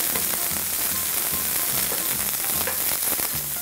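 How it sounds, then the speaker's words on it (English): Red peppers and mushrooms sizzle and crackle steadily in a hot pan, with a continuous frying hiss and faint scraping as they are tossed together, close and fairly loud with no talking. "Then we're going to grab our red peppers, throw those in. We're going to grab our mushrooms, we're going to throw those in. Let's give that a little mix."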